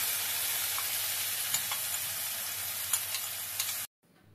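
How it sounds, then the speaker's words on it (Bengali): Spices fry with onions in a hot pan, a steady bright sizzle with faint stirring ticks scattered through it, cutting off abruptly near the end; no talking. "এবার আমি ভালো করে মশলাগুলো কষিয়ে নিব"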